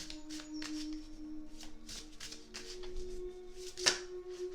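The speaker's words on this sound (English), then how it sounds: "I'll keep shuffling." Soft, repeated riffling of a tarot deck being shuffled close by, in quick papery bursts over a faint steady hum, with one sharper snap near the end.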